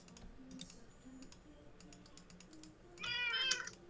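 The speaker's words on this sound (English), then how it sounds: "Minecraft cat." A Minecraft cat gives a short, clear meow near the end, over steady keyboard typing and mouse clicks at a quiet level.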